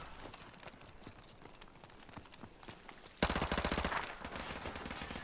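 Gunfire in the Modern Warfare video game: after quieter scattered shots, a loud sustained burst of rapid automatic fire erupts and keeps going in dense, repeated cracks.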